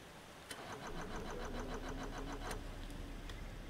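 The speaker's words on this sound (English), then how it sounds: "we're gonna turn on the engine." A boat engine starts up in Stormworks: a click, then a rapid rhythmic cranking that catches into a steady mid-pitched running drone, fairly loud and close, with no one talking.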